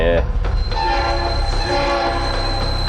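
Train horn blasting in a Roblox game, a loud sustained blaring tone held over rumbling rail noise, close and continuous for a few seconds.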